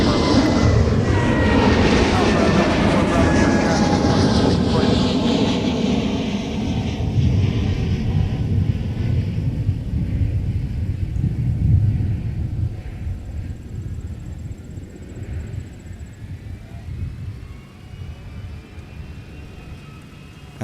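A Spirit Airlines A320 with winglets passes at MSP airport, a loud roaring jet engine rumble that slowly fades as the aircraft moves away, with a high whine trailing off near the end.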